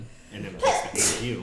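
A single sharp sneeze bursts out close by, with someone talking quietly just before it.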